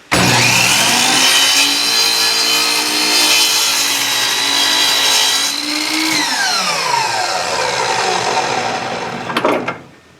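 A saw cuts through wood trim for interior French doors, a loud steady whine running almost continuously for about nine seconds, its pitch sliding down partway through, then winding down with a few short bursts near the end.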